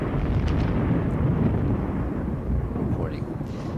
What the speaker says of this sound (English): There was some pretty heavy rain here the other day, and some lightning and thunder.